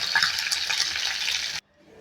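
Marinated chicken pieces fry in oil over medium heat, a dense bright sizzle for about a second and a half before it cuts abruptly to near silence.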